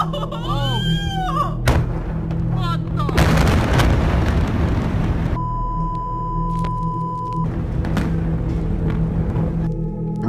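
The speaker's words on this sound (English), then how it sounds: "a sudden explosion occurred and destroyed the laboratory they used to experiment" An explosion destroying a laboratory in the video game Catch the Elements, with a loud, close burst of booming, crackling blasts after electronic tones, then a steady beep and fading rumble.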